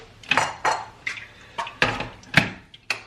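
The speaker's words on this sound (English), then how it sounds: "let's get the kettle on" Kettle being set up in a home kitchen, heard as a run of close metallic clinks and knocks of kitchenware with light watery drips, several sharp taps spaced through a few seconds, no voices.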